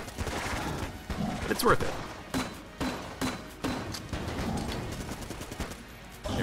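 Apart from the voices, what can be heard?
M16 gunfire in video game Enter the Gungeon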